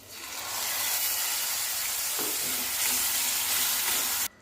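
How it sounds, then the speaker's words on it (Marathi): Ginger garlic paste sizzles steadily in a pan with oil and a little water while roasting for a dhaba-style methi matar malai, with a brief stirring scrape midway before the hiss cuts off abruptly. "थोडंसं भाजून घ्यायची अद्रक लसण पेस्ट"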